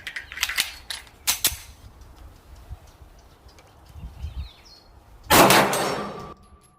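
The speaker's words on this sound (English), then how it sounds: "Took me 4 rounds to hit the plate with this Sig Sauer." Sig Sauer P365 pistol shots crack sharply at an outdoor range aimed at a steel plate, two quick reports early, another around a second later, then a louder, longer burst near the end, with quiet pauses between.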